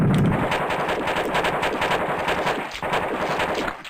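Rapid, continuous assault rifle fire in the video game AOPID, with loud, dense bursts rattling on for the whole stretch and only brief dips between volleys.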